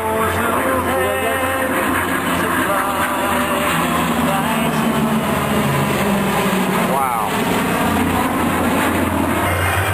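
An F-22 Raptor flies at an air show with two P-38 fighters, their engines a loud, continuous roar with a whooshing pass overhead, and people talking over the noise.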